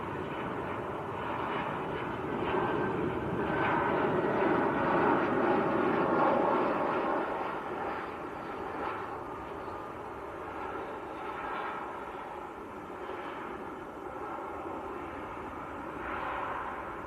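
Lufthansa airliner from Frankfurt at Manchester Airport, a fairly faint, sustained engine rumble and roar that swells in the first few seconds and then settles into a steady distant drone.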